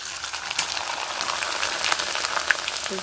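Leftover cooked rice mixture frying in hot oil, a steady crackling sizzle with dense popping spatter throughout, fairly close and even in level, with no voices.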